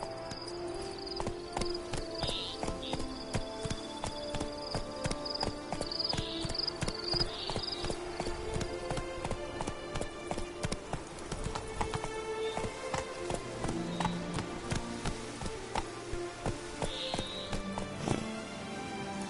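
Horse hooves clip-clop in a steady galloping rhythm throughout, loud and continuous, in a PS4 video game, with music and game sounds layered over it.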